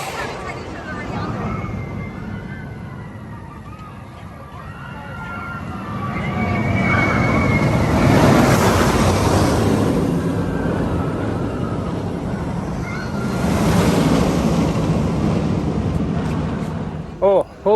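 Xcelerator, a launched roller coaster at Knott's Berry Farm, on a hot-day test run: a rising whine and rumble swells past twice, near and loud, with a rushing roar.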